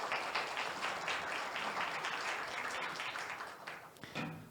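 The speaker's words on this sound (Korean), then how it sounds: "큰 박수 부탁드리겠습니다" A conference hall audience applauds at a venture startup society awards ceremony, a steady wash of clapping that holds for several seconds and then tapers off at the end.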